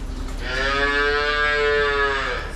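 A dairy cow on a farm lets out a single long, loud moo lasting about two seconds, close by and clear over faint background noise.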